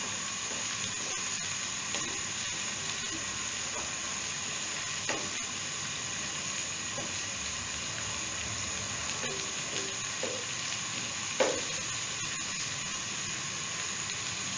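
Chicken frying on high heat for biryani, a constant dense sizzle with occasional stir clicks and scrapes, heard alone close up.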